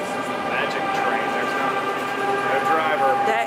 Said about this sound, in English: This is the people mover and it moves people around.